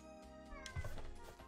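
A cat meows faintly beneath video game music, a single short cry standing out midway through the soft background.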